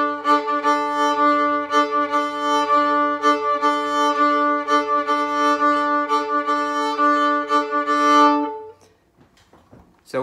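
A bowed string instrument plays a fast shuffle lick, strong sustained harmonic tones pulsing with steady rhythmic bow strokes, loud and close for about nine seconds before stopping into near silence.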